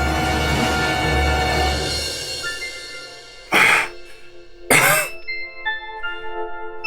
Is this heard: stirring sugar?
no